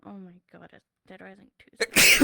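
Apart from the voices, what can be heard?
sneeze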